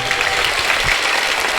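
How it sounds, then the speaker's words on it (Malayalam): A brief burst of steady, close applause from a crowd at a school gathering for a goat village scheme's prize coupon draw, given in honour of a guest. "മനോജ് സാർ നല്ലൊരു കയ്യടി കൊടുക്കും നിങ്ങള്."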